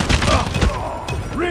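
A frag grenade detonates in Call of Duty Mobile with a heavy, booming burst and rolling low rumble. A brief in-game voice callout follows as the blast fades.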